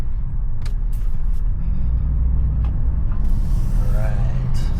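A car running on E85 fuel accelerates at about quarter throttle, a steady, loud low rumble heard from inside the cabin throughout, with a voice briefly present over it.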